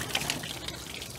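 Water pouring and trickling steadily from the cooling system of a Ford V10 engine being drained, a continuous close splashing flow with no talk.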